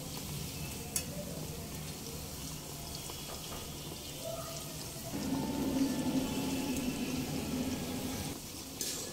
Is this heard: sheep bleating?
no